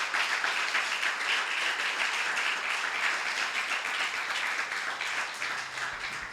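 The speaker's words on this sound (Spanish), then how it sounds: "Denle un aplauso al Señor Jesucristo." A church congregation applauds during a Spanish-language sermon, producing a continuous wash of many hands clapping that stays steady for about six seconds and then eases slightly at the end, with no talking.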